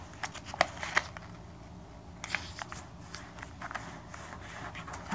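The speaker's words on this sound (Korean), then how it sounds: "세모를 접어주세요." Paper being folded into triangles for an origami Santa Claus: several close, crisp rustles and creases in short bursts, alone with no talk.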